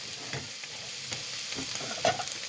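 Food frying in olive oil in a skillet gives a steady close sizzle and crackle, with a few small pops and stirring scrapes throughout, no talking.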